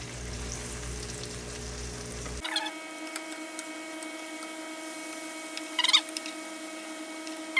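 Banana pudding batter frying in a pan, a soft, steady sizzle with faint crackles and a low hum in the background, no voices.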